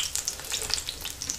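Zucchini medallions wrapped in dough fry in a pan, giving off a steady close sizzle with bright crackling pops and spatters throughout, no voices over it.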